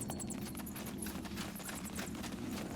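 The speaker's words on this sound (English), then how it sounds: "Do you hear that? Footsteps." Footsteps approach in the fantasy strategy game SpellForce 3 as a steady, continuous patter of clopping steps, fairly quiet, over a constant low ambient rumble with no speech.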